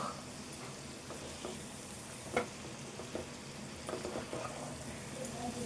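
Ivy gourd curry frying in a pan, a soft continuous sizzle with occasional light clicks and stirs of the utensil, fairly quiet and close, with no talking.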